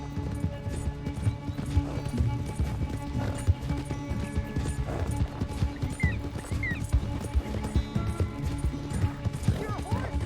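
Horse hooves pound in a steady, rapid galloping rhythm in the video game Red Dead Redemption 2, loud and continuous over rumbling game ambience, with brief voices over it.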